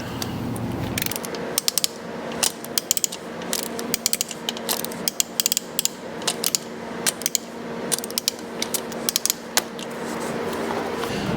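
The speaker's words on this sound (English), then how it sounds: "Torque the wheel up, 130 Newton meters." A torque wrench tightens the wheel bolts on a Mercedes W212 E63 to 130 newton meters, making sharp, uneven ratcheting clicks that come in short bursts over a low, steady background hum.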